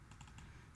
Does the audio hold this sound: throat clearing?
no